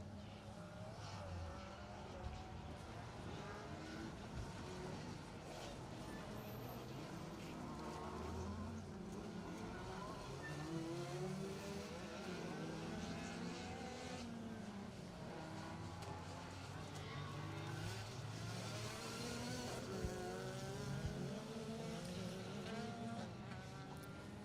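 Blue Mark II Escort rally car on a stage, its engine a steady distant buzz that holds throughout with continuous crowd or ambient noise over it.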